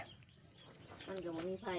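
Chickens clucking at a rural Thai home, faint and sparse at first, then a louder harmonic cluck near the end, with someone talking quietly in the background.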